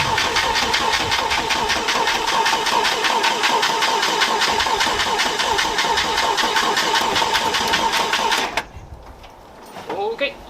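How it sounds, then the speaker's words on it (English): An International Scout 80 engine cranks steadily and loudly with a fast, even rhythm for about eight seconds, then stops abruptly, leaving quiet with a short stir near the end. "All right, so we got a good steady crank."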